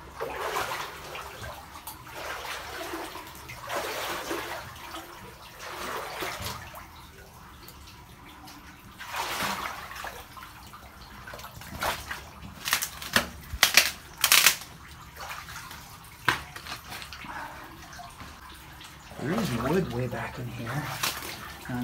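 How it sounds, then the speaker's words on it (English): Running water rushes and splashes steadily nearby, with occasional louder surges, and voices can be heard faintly now and then. "Water"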